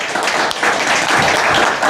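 An audience applauds a quiz competition's first-prize winner with loud, sustained, dense clapping that fills the whole stretch from start to finish.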